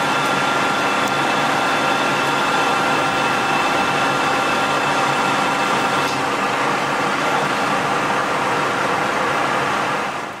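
Steady broadband whirring and hiss of a lathe turning down a 1/2" BSW T-bolt for a Hornsby oil engine, continuous and fairly loud with no talk over it.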